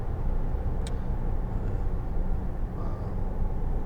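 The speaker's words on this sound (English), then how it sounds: "mostly I can hear the fan there" Ventilation fan runs inside a 2014 Volkswagen Tiguan 2.0 TDI on a quiet drive, a steady low whooshing hum blended with constant road rumble, with no talking.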